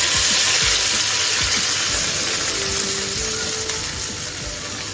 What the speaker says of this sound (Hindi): इतना गरम ऑयल है कि इसमें मैं मिर्ची ऐड करूँगी 1 टीस्पून